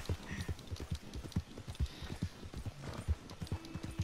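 Horse hooves clip-clopping in Red Dead Redemption 2, a steady brisk rhythm of close, distinct hoof strikes on the ground throughout, with no talk.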